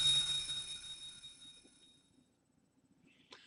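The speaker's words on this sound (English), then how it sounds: "The sound of a bell." A single bell rings in the Never7 visual novel game: a short, bright chime near the end, after a fading sustained tone and quiet low hum.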